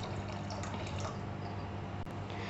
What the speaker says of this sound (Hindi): मैं भी यहाँ पर थोड़ा सा पानी और ऐड करूँगी